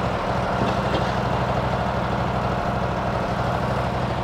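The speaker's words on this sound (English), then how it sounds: "ignition on and start the pump" An Isuzu fire truck's water pump engine runs steadily at a constant low rumble, close and unchanging, with no voices.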